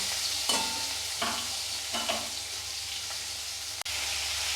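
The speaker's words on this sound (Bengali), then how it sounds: "চিংড়ি মাছগুলোকে এখানে ভালো করে একটুখানি ভেজে নেব এখানে উল্টিয়ে দিয়ে এটাকে ভালো করে ভেজে নেব" Prawns fry in a pan, a steady close sizzle broken by several stirring and flipping scrapes and a sharp knock near the end, with no voices.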